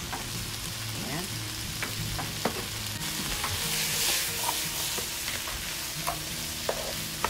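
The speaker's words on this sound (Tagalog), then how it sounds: "yung bawang, sibuyas, kamatis, ginisa lang natin. Tapos itong tangkay ng mustasa." Garlic, onion, tomato and mustard green stems sauté in a pan with steady sizzling and frying crackle, punctuated by clinks and scrapes of stirring; a voice speaks briefly.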